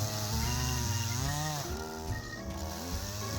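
A chainsaw cutting thin firewood laid on the ground, its engine loud and close with a high buzzing whine that bogs down and rises again as the chain works through the wood.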